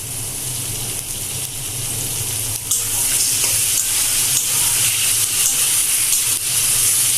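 Vegetables fry in a pan with green chili, red chili and cumin pastes for a Bengali tatkini fish jhal. A loud, continuous sizzle with occasional stirring scrapes swells slightly partway through.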